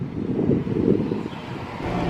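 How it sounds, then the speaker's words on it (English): Steady low wind rumble buffeting the microphone, with gusts swelling and easing throughout; no voices. "It's a little windy, but I am loving this sun."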